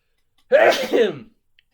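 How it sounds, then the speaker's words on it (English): A single close sneeze, sharp and loud, lasting under a second, with silence before and after. "sneeze"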